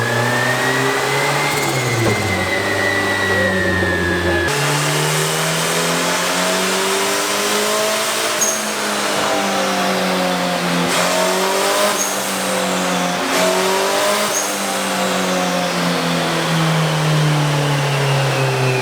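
A turbocharged LS engine with VTEC runs on a dyno, revving to about 7,900 RPM on 11 pounds of boost. It is loud and continuous, with its pitch repeatedly sweeping up and down as the revs climb and fall, and no voices are heard.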